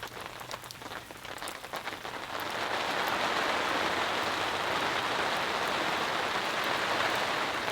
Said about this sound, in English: And it's raining, just like that.